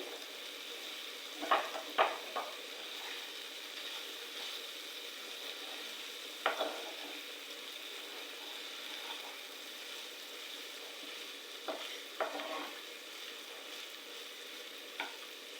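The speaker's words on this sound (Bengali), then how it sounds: "আমি মাংসটা আস্তে আস্তে ভেজে নিচ্ছি।" Meat frying slowly in a pan on a stove, with a second burner also cooking, gives a steady soft sizzle. A few sharp utensil clicks and scrapes break in now and then. No one speaks.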